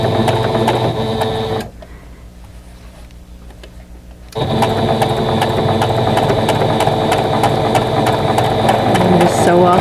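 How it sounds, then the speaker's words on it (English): Sewing machine stitching quilt pieces off the edge: a loud, close, steady whirring run that pauses briefly for a couple of seconds and then resumes at the same pace. "And just sew off the edge."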